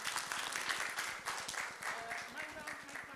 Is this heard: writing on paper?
no